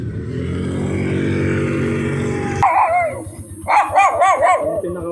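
A dog barks and yelps several times in quick bursts after a loud engine rumble fades, the barks close and fairly loud.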